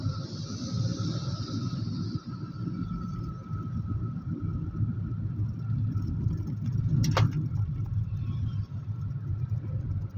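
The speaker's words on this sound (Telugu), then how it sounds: "మార్కాపురం టు దోర్నాల వెళ్తుంది బస్సు అది." A Palle Velugu bus running from Markapuram to Dornala gives a steady, close, low engine rumble with road noise that holds throughout, plus a brief sharp rattle partway through.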